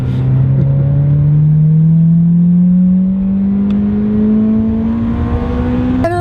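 A Toyota Corolla engine with an upgraded exhaust revs up steadily, its throaty exhaust drone rising in pitch over several seconds, loud and close, with no talking.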